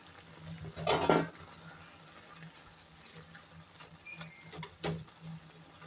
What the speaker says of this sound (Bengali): এবার আমি পুঁটি মাছ ভাজাগুলোকে দিয়ে দিচ্ছি।